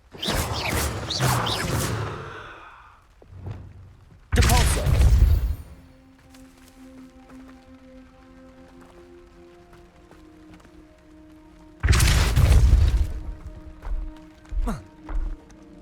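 A Depulso spell in the video game Hogwarts Legacy hits with loud, sudden impact bursts, a crash and clatter followed by softer ambient tones, and another heavy burst and thuds later on.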